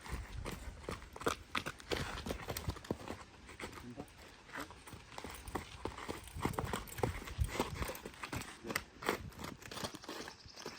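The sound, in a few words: horse hooves clip-clopping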